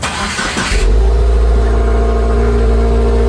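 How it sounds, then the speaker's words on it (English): A Subaru WRX with an STI shifter starts up and revs hard, a loud, close engine roar that settles into a steady, throaty idle rumble with no talking. "Sounds like a Subaru."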